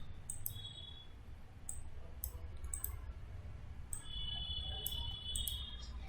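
A computer mouse clicks while someone works in Power BI. Scattered sharp, faint clicks come singly and in quick pairs over a low, steady room hum.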